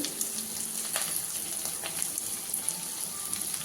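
Garlic and ginger sizzle in a pan, a steady crackling hiss with small pops and occasional stirring taps, close and moderately loud.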